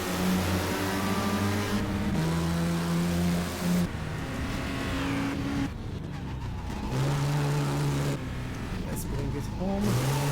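An Aston Martin race car in the GT Legends racing game drones and revs, its engine pitch stepping up and down through gear changes, steady and prominent with a voice talking over it.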